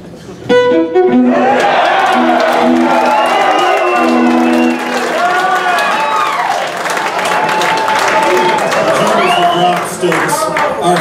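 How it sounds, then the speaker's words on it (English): A live audience bursts into loud applause mixed with cheers and whoops after a music performance, the sustained clapping and shouting filling the space for several seconds, with a held musical tone fading at the start. "This is the most applause Christian has ever gotten."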